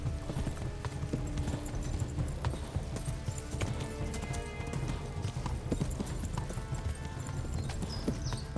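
Horse hooves clip-clopping at a steady galloping rhythm in the medieval video game Kingdom Come: Deliverance, close and continuous over a low rumbling bed, with a brief whinny hinted.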